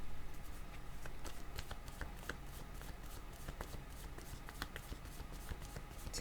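Tarot cards are shuffled in a soft, continuous riffling and sliding patter, close but faint, with no talk.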